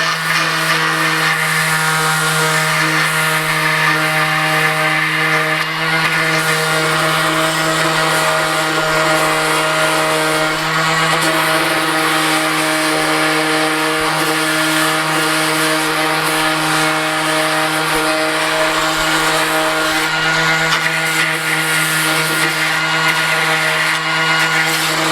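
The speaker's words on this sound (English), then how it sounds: "we're gonna move over to an 80 grit random orbit sander" An 80 grit random orbit sander works on a jetpack build, a steady, loud whirring drone with a constant hum that runs without a break throughout.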